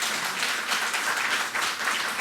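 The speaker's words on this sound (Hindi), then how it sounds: "उन कलाकारों के लिए जोरदार तालियां" Hearty applause and clapping from an award ceremony audience honouring handicraft artists receiving state awards, a dense steady wash of many hands throughout.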